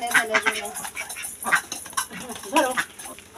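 Home-raised ducks quack in a series of nasal calls close by, mixed with people talking.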